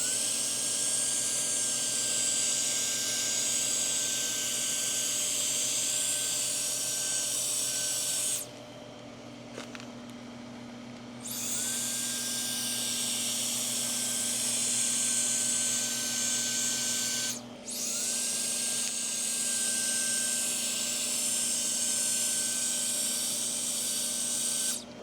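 GooLoo F3 cordless air duster with an inch-wide nozzle blowing bamboo leaves, a high whining motor hiss in long steady bursts with two brief stops, close and loud.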